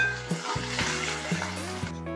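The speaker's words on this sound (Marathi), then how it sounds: "जिरं छान तडतडलं त्यामध्ये बारीक चिरलेला कांदा घालून घेऊ।" Chopped onion hitting hot oil with crackling cumin seeds in a kadhai, a steady close sizzle with a few sharp pops and brief metal clinks of stirring.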